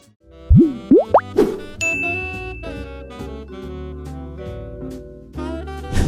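A notification bell chime rings out with bright tinkling dings and quick plopping pops, layered over a sustained musical bed and steady electronic backing at full loudness.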